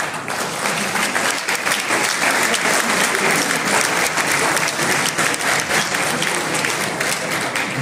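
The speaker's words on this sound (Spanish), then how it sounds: "les pido por favor un aplauso una vez más para los que se han servido de hoy" Sustained, dense applause from an audience at an electoral statistics presentation, steady and loud clapping filling the whole stretch without pause.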